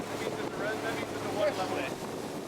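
A speedboat crossing a lake on the way to a dive site, heard as a steady engine drone mixed with rushing water and wind buffeting the microphone, close and continuous.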